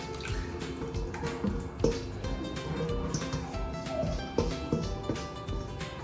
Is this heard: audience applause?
no